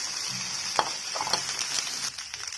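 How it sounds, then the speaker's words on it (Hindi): Okra frying in a pan with onion and green chillies, a steady close sizzle with a few soft stirring scrapes and clicks, no voices. "पियाज टिके हो जाइछि, एबे भेंडी को पके दबा।"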